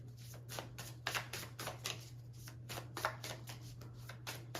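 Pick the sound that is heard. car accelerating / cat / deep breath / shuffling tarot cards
shuffling tarot cards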